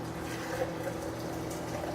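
Super hot water pours steadily into a vessel for flax muffin bread, a continuous close, moderate wash of liquid with no talking.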